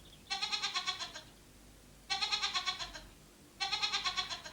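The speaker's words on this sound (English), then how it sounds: "The goat began to bleat for help." A goat trapped in a hole bleats for help, three separate quavering, pulsing bleats spaced about two seconds apart, fairly close and clear over a faint background.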